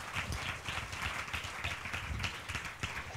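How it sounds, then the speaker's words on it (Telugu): A church congregation clapping together during Sunday worship, steady rhythmic hand claps from many people sustained throughout, fairly close and full. "చప్పట్లు కొట్టి ప్రభుని కనపరుద్దామా?"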